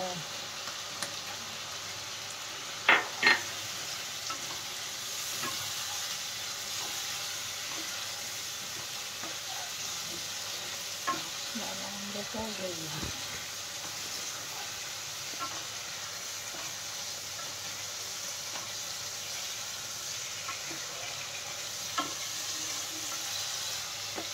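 Ground cumin, coriander and Kashmiri chili powder frying in oil in a pan for chicken curry, a steady soft sizzle throughout with a few brief clinks of stirring, fairly quiet and close.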